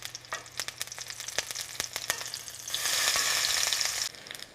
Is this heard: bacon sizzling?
yes